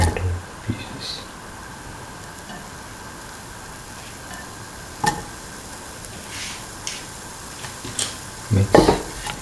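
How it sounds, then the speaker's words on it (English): Tomato pieces sizzle steadily in a hot frying pan, with occasional stirring scrapes and clinks against the pan and a few louder bumps near the end, faint background noise throughout. "Put in the tomato pieces."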